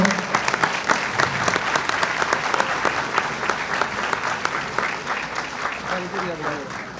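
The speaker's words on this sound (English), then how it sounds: "A round of applause for our Grand Marshal." A crowd at an awards gathering claps for the Grand Marshal, sustained applause with distinct individual claps standing out, and a few voices faintly audible beneath it near the end.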